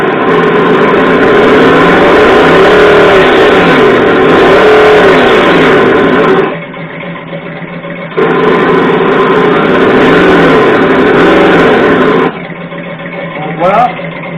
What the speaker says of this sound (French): Ici un petit V8 de Corvette.